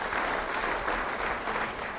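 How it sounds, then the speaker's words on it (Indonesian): Steady applause from a church congregation during a sermon, dense continuous clapping that holds at an even level for the whole stretch with no voices standing out. "Beri tepuk tangan bagi dia."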